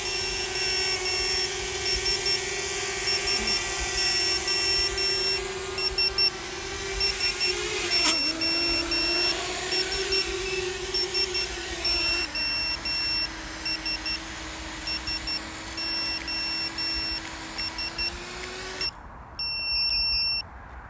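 A drone flight controller running INAV 4.0 sounds its failsafe alarm after the transmitter is switched off: a steady string of high, evenly spaced beeps over a constant low hum, close and clear.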